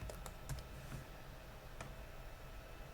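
Quiet typing on a computer keyboard, a few distinct key clicks scattered across the stretch with soft background hiss between them.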